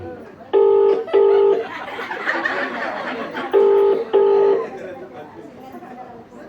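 A phone on speakerphone dialing out at a 25th anniversary party, four loud DTMF key tones in two pairs over murmuring guest chatter and voices in the room.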